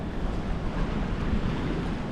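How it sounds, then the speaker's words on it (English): Choppy sea waves at Gulf State Park Pier in Orange Beach, Alabama, as Tropical Storm Francine approaches: a continuous, loud wash of surf mixed with heavy wind buffeting the microphone, no voices. "Here at the Gulf State Park Pier, water's not too rough yet."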